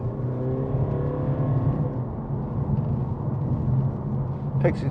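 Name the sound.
Mercedes-Benz CLA220d car accelerating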